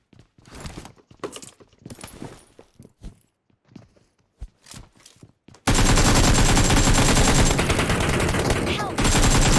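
Gunfire in the PUBG Mobile battle royale game: scattered sharp single shots and short bursts at first, then a sustained loud barrage of rapid automatic fire filling the last few seconds.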